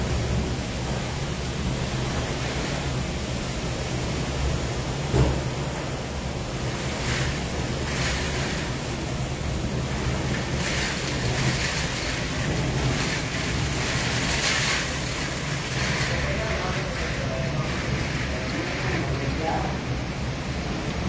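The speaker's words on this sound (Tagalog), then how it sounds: "Grabe ang lakas ng hangin." Strong wind roars and waves crash continuously during a large storm at sea, with steady gusting noise buffeting the microphone and faint voices underneath.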